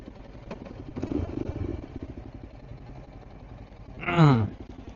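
A motorcycle sets off on a ride to a home village, engine noise running under rough wind and road sound, with a louder revving burst near the end.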